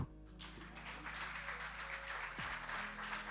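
Audience applause at an awards ceremony, a broad steady clapping that rises quickly and holds, heard somewhat distant over a low hum and faint tonal background sounds.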